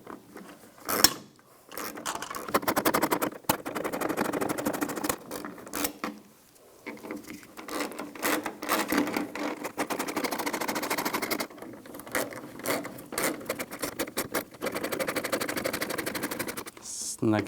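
Screws on the fuel pump lock ring of a 2011-2018 Ram 1500 3.6L are driven in with a ratcheting tool, giving rapid mechanical clicking and whirring bursts up close, separated by brief pauses.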